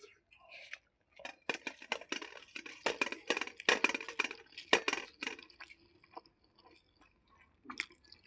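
Someone eats a warm paste of ground thankuni (Indian pennywort) leaves, with close, wet chewing and squishing sounds coming in irregular bursts against a quiet background.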